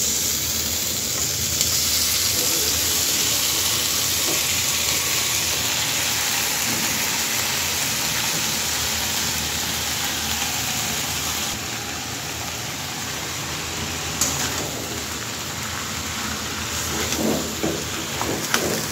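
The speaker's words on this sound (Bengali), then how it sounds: "এবার কচুর ফুলটা ভালো করে ভেজে নেব মাছের সাথে।" Hilsa fish and boiled taro flower fry together in a pan, giving a loud, steady sizzle with crackling and soft stirring scrapes throughout, no voices.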